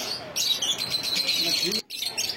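Lovebirds at a bird market chirp in a busy, overlapping chatter of sharp tweets, close and lively, with a brief pause near the end.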